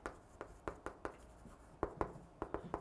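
Chalk or marker tapping and scratching on a board during a math lecture, a series of quick sharp strokes in irregular bursts, fairly close and faint with no talk over it.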